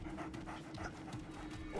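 A dog pants steadily and close in Remnant 2, quick rhythmic breaths running through the whole moment over a low ambient game hum.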